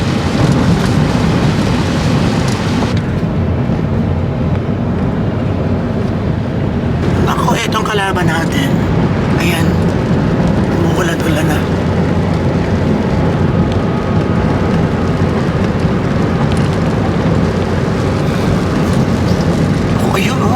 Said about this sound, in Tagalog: Ayan na. Umulan na.